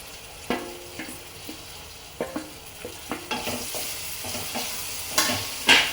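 Chopped tomatoes tip into a pan of frying onions and green chillies for chicken handi, followed by a steady sizzle and intermittent scraping stirs, close and moderately loud, with a sharper clatter near the end.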